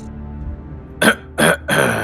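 A person clears their throat close up with three short rough bursts, following a brief quiet hum.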